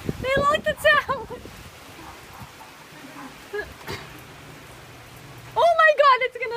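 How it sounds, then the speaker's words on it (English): Heavy rain pours during a thunderstorm as a steady broadband hiss, with excited voices talking over it at the start and end. "It's really raining!"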